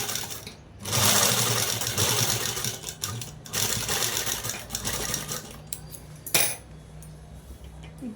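A sewing machine stitches a collar on a long frock dress made from a saree, with bursts of fast, close mechanical whirring separated by brief pauses and a few light clinks.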